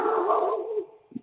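A dog lets out a drawn-out, moaning bark-howl that fades over about a second, loud and close, followed by a short low thump.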